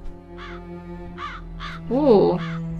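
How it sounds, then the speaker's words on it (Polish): Crows cawing in the video game The Dark Eye, several harsh caws in an uneven series, one louder and longer near the end, over a low steady background hum. "Okej, jedną wronę już mamy."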